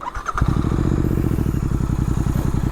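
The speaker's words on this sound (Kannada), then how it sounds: "ಹೋಗೋಕ್ಕಿಂತ ಮುಂಚೆ ನಿಮ್ಗೆ ಎಕ್ಸಾಸ್ಟ್ ಸೌಂಡ್ ಕೇಳಿಸ್ಬಿಡ್ತೀನಿ ಒಂದ್ಸಲ" A Royal Enfield GT650 motorcycle starting and idling, a thump and clatter, then a loud, close, steady twin-cylinder exhaust thrum with a regular pulsing beat.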